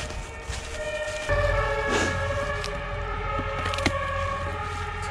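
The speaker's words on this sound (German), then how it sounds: "Tatütata." Emergency vehicle siren wailing outdoors near a garden of beehives, a steady tonal wail with layered harmonics holding across the whole stretch over low background rumble.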